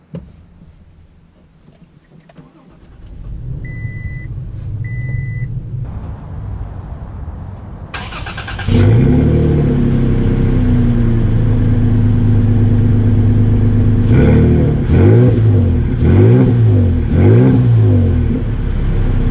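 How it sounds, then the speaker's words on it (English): A 2019 Toyota Tacoma TRD Pro starts up and pulls away, its engine rising into a loud, steady drone with repeated rhythmic surges of revving near the end, heard close from inside the truck with no talking. "let's take the 2019 Tacoma out to see how it drives"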